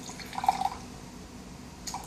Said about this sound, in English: In glass A I'm going to add water up to quarter glass,